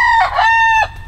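A rooster in a backyard poultry run gives a loud, close crow, a short harmonic call that drops away at the end.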